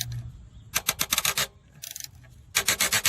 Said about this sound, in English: we're going right onto this tensioner screw. Nice long extension, ratchet